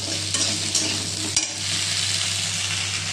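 Okra added to browned onions fries in a pan with a steady hiss, while occasional stirring strokes scrape through and a low hum runs underneath.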